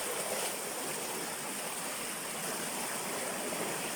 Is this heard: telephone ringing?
no